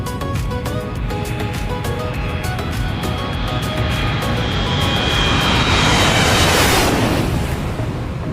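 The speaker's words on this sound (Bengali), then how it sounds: "অবশেষে বিমানের পাইলট ইঞ্জিন স্টার্ট দিলেন, আর এক লাফেই বিমান আকাশে উঠে গেল।" A passenger airliner's engines roar steadily throughout the takeoff run on a flight from Portugal to France, swelling in a broad rushing surge toward the end, loud and heard from inside the cabin.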